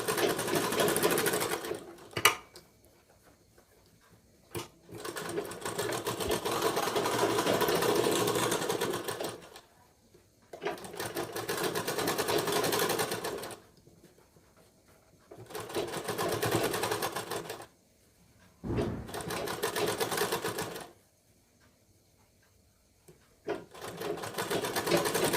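A sewing machine stitches a blouse sleeve in four or five whirring runs of a few seconds each, separated by quiet pauses and punctuated by occasional sharp clicks, close and fairly quiet.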